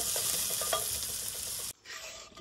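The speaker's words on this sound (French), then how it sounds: "de petits dés de saucisson. Qu'on fait cuire pour enlever le gras" Small diced saucisson sausage pieces frying in a pan, a steady broadband sizzle with scraping stirring strokes, close and fairly loud, cutting off abruptly near the end to a quieter, thinner sizzle.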